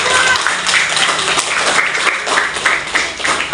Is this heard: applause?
yes